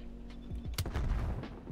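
A grenade blast in Call of Duty Cold War Search and Destroy, a sharp loud explosion with a short rumbling tail, preceded and followed by smaller distant gunfire pops, no talking.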